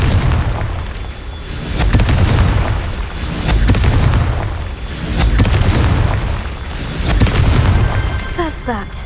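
Blasting spell explosions in the Hogwarts Legacy video game: a series of heavy booms and bursts rolling in waves, loud and close, with game effects layered over them.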